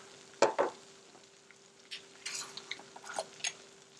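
Food cooking down in a pan for Swiss and Gruyere mac and cheese, a faint quiet sizzle with a couple of sharp utensil knocks near the start and soft scattered stirring sounds.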